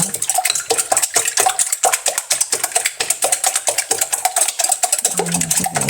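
A utensil scrapes and clatters rapidly against a pan as food is stirred with a little added water while cooking lunch, a loud, busy, irregular stream of metallic taps and wet scraping.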